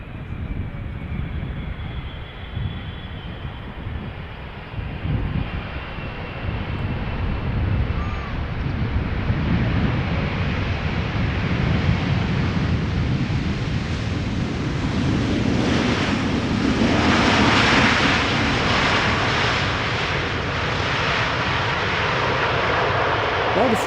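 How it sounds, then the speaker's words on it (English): A KLM Boeing 777-300ER, a 14-year-old airliner on its arrival at Schiphol Airport, roars steadily for the whole stretch, its broad jet engine noise building and brightening toward the end, with wind buffeting the microphone. "KLM Flight 744, 777-300ER arriving from Lima in Peru."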